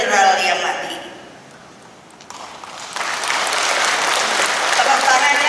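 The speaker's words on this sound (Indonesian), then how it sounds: "Tepuk tangannya keras." Audience at a political speech breaking into loud applause, a dense wash of clapping that dips briefly and then swells again and holds strong, with a voice heard over it early on.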